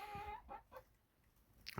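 A few short hen clucks at the start, a pause, then a brief louder cluck near the end, with no talking.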